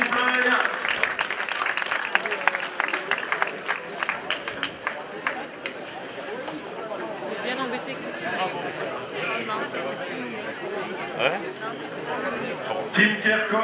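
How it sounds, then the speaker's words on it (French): Applause and crowd chatter at a cycling race podium ceremony, with clapping strongest at the start, then fading into general crowd hubbub as a voice speaks over it. "sous vos applaudissements pour Tim Kerkhoff"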